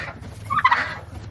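A homestead quail gives a short, bright chattering call lasting about a second over a low background hum, close and loud, with no talking.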